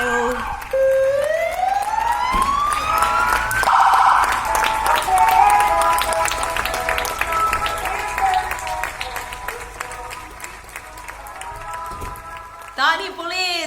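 Crowd applause rises from neighbouring balconies in the evening, a long steady wash of clapping mixed with a rising and falling emergency siren and scattered voices, continuing for many seconds before fading.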